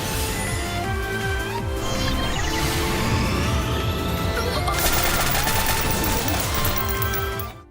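Rapid, loud automatic gunfire from the anime gunslinger Llenn's guns, sustained bursts of shots mixed with clattering impacts throughout, intensifying into a denser barrage midway with no talk.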